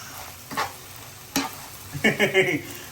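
Eggs and pita bread frying in a pan over a low flame while being mixed, with a few distinct spatula scrapes and stirs over a faint, steady sizzle, no voices.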